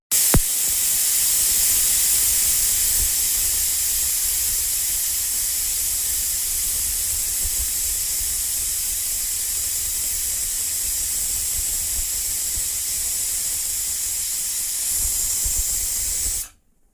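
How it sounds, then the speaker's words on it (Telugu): A pressure cooker on a kitchen stove, cooking a tamarind-soured greens curry, releases steam in a long, continuous, loud hiss that holds steady for about sixteen seconds and then cuts off abruptly, with no talking over it. "విజిల్ అయితే వచ్చేసిందండి."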